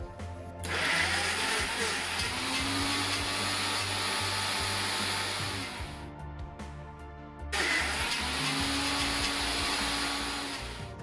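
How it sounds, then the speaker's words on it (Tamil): A mixer grinder grinds peanuts into peanut butter in two long, loud, steady motor runs, separated by a short pause with light clatter. "கிளறி விட்டு அரைச்செடுக்கணும்."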